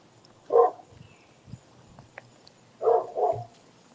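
A dog barks a few times at a distance, one bark followed by a quick double bark after a pause, with faint background noise in between.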